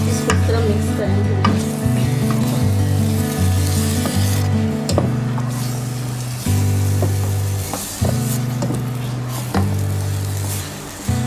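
Semolina halwa with sugar is mixed briskly in a pan over a raised flame, a continuous scraping, rasping stir with steady sizzle beneath, close and fairly loud, with low music running underneath and no speech.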